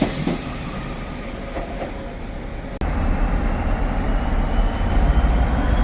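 A Class 397 passenger train running from Glasgow Central to Manchester Airport passes at Carlisle, a loud, close rumble of wheels and carriages that grows heavier partway through.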